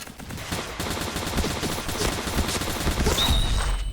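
STG44 assault rifle fire in the shooter game Point Blank, rapid bursts of repeated shots close and loud, with a short ringing tone near the end and no speech.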